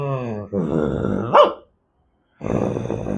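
A human voice imitates a soft dog bark, making two growly woofs separated by a short silence.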